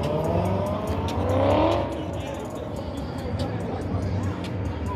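A Chevrolet Corvette C8 Stingray at a gathering gives a short rising engine rev that fades into a steady rumble. Voices and crowd chatter sit underneath.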